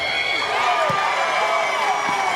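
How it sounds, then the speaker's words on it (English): An audience at a Toloso Midway High School ceremony cheers and applauds in a continuous wash of clapping and whoops, with a couple of sharper shouts standing out. "The applause, the cheers, the big moment."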